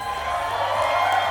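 Wedding guests at an evening celebration cheer and applaud together, a steady, dense wash of crowd noise with shouts mixed in that holds at an even level throughout.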